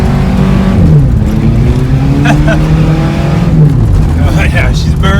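A Ford F150 Platinum with the 3.5 EcoBoost engine and an MBRP exhaust revs loudly and close by, its engine pitch rising and falling in a continuous drone, with voices talking over it.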